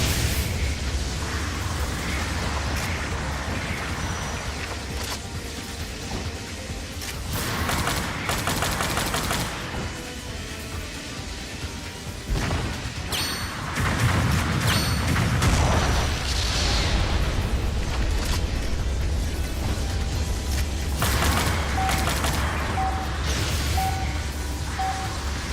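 A grenade explosion destroying a mobile suit in a video game, with dense booming blasts and rapid gunfire-like bursts rolling continuously at high volume.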